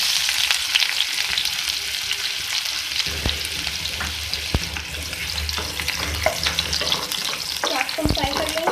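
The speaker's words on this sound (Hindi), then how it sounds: "प्याज को फ्राई कर लेंगे।" Sliced onion fries in hot oil in a pan, giving a steady close sizzle throughout with occasional scraping stirs and light clinks, and no talking.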